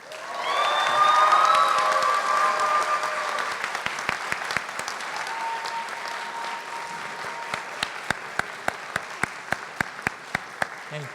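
Audience applauding at a university diploma ceremony, loud sustained clapping with some cheering early on that thins out to scattered individual claps toward the end.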